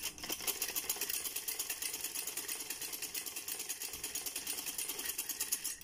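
A sewing machine runs steadily while stitching along the edge of a trouser, a continuous rapid mechanical chatter holding at an even level throughout with no voices.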